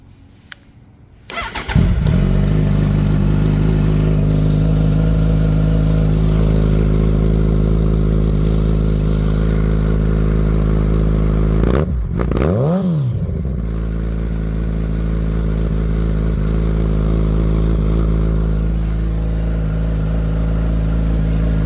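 A Kawasaki Ninja 1000 motorcycle engine cranks and fires after about a second on a fresh battery, then settles into a steady, loud idle with a brief rev blip near the middle before dropping back to idle.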